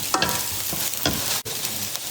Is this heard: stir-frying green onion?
yes